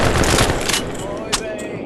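Fully automatic machine gun fire in a close-quarters video game match, a dense continuous burst of rapid shots for about two seconds, loud and close, with game noise mixed in.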